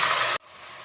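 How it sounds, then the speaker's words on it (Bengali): Potatoes deep-frying in hot white oil over a high flame, a loud dense sizzle that cuts off abruptly partway, then a quieter steady crackle continuing alone. "হাই ফ্লেমে আমি আলুগুলো ভেজে নেব"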